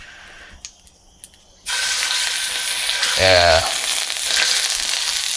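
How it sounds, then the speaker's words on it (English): Chicken thighs laid skin side down in a hot cast iron pan start a loud, steady sizzle that follows a few soft clinks. A voice says a short word partway through. "When you get it on there nice and hot and hear that sizzle, that's how you know you're good."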